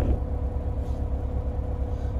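A big delivery truck rumbles along a road nearby, a steady low engine drone holding through the short stretch without talk.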